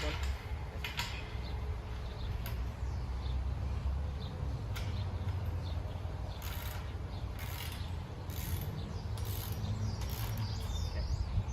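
Hand ratchet tightening bolts while assembling a TSC Retriever Lodge expandable dog kennel, with rapid clicking bursts repeating over a steady background hum.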